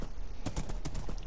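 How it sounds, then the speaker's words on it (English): A horse in a video game clip-clops, with a quick run of sharp hoof taps in an uneven rhythm over a steady background hiss, fairly close and moderately loud. "at least I got myself a pet horse."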